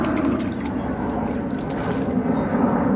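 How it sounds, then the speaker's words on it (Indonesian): Water is poured over a long-haired guinea pig during a bath, giving a close, steady splashing and trickling stream that continues without a break for a few seconds. "Siram air secara merata ke seluruh badan kinepik sampai basah."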